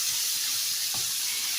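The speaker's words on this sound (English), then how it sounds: "I love sauteing now." Chicken taco filling sizzles in a pan as it sautés, a steady close hiss of frying with a small stirring clatter, no voices.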